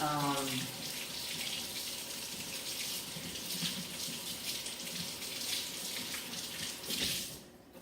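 A kitchen tap runs steadily as a knife is rinsed beneath it, a close continuous gushing stream with a brief tonal sound at the start, stopping abruptly near the end.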